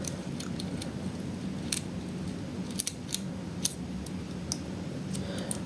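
A metal lock pick is scraped and zipped across the pins inside a lock, giving a series of sharp, close metallic clicks and ticks scattered over a low steady background.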